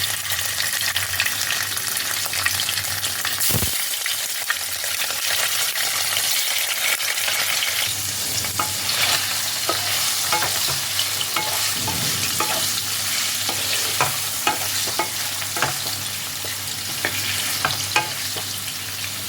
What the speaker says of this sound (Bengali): এবার আমি এই তেলের মধ্যে দিয়ে দেব পনিরগুলো। পনিরগুলোকে হালকা করে ভেজে নিতে হবে।